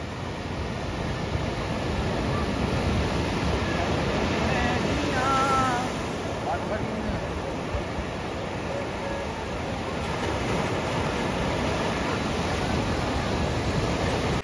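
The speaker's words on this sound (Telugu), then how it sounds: "సముద్రం సౌండ్ అల్లలు అసలు ఇట్లా ఎగసి పడుతుంటాయి, మీద పడుతుంటాయి" Sea waves surging and breaking on the sand at Baga Beach in Goa make a steady, broad roaring wash with no pauses, loud and close throughout.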